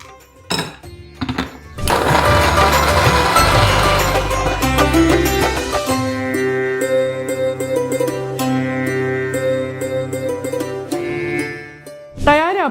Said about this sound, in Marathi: मिक्सरमधनं फिरवूया